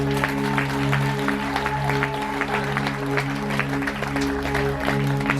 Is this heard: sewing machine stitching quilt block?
no